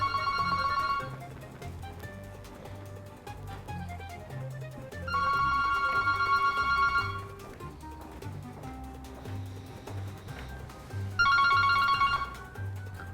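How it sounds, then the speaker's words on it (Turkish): Telephone ringtone sounding in repeated bursts, about three electronic trilling rings with gaps between them, over low background music. "telefon."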